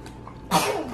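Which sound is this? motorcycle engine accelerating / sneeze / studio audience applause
sneeze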